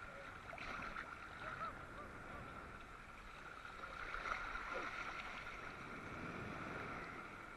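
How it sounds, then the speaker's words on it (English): Ocean waves at Waianae, Hawaii, with a steady broadband wash of surf and water churning continuously throughout, slightly swelling midway, heard close up with some wind. "These waves are a little different here, aren't they?"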